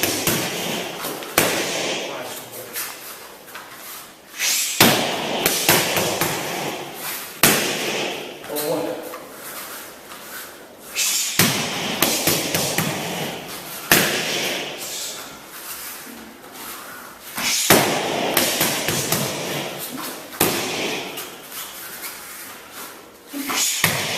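Martial arts pad drill combinations with punches and roundhouse kicks driven into handheld pads, sharp repeated impacts landing in bursts with a roomy echo, interspersed with background voices.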